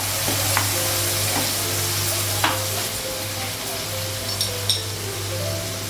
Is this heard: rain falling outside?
no